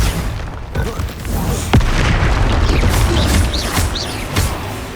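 Confringo fire spell explosions in the Hogwarts Legacy video game boom loudly amid a chaotic duel, with several sharp blasts and whooshing magic effects layered over continuous battle noise.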